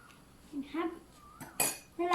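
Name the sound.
stirring milk jelly mixture with a spoon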